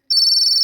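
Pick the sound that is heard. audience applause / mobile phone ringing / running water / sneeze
mobile phone ringing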